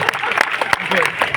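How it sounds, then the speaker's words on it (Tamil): An audience bursts into brief, dense clapping that fills the room, with a voice talking over the applause. "ஒரு கைத்தட்ட."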